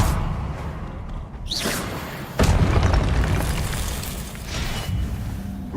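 An Expelliarmus spell strikes in Hogwarts Legacy with a deep booming impact and a sweeping whoosh, then a long rumbling roar that swells again near the end, loud and close with no voices.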